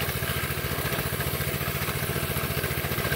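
A mini bike fitted with a four-cylinder engine idles close by, a steady low rumble with a fast, even pulse that holds throughout, with no talk over it.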